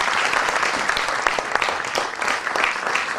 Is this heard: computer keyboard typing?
no